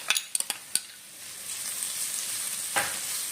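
Green chili and cumin seeds frying in a pan, opening with a few sharp clinks of a utensil, then a steady soft sizzle that continues alone at close range.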